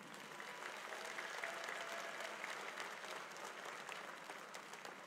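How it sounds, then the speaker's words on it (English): Audience at the Hunters Lane 2021 graduation ceremony applauds the teachers, a steady, dense clapping that fills the hall for several seconds at moderate distance with no speech over it. "How about a big round of applause for them?"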